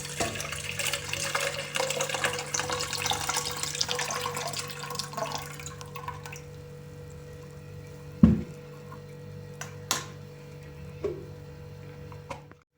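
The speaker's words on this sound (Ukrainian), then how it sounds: "Зливаємо воду другий раз." Water pours and splashes for about six seconds as it is drained from jars of pickling cucumbers, then stops, leaving a quiet hum with a few sharp clinks and knocks.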